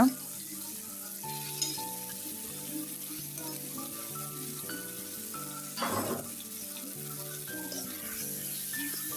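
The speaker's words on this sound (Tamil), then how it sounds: "சேர்த்துட்டு நல்லா வதக்கி விடுங்க." Boiled eggs being sautéed in a pan with masala for a South Indian egg curry, with a steady frying sizzle, stirring scrapes and a few utensil clinks against the pan, heard up close with no talk.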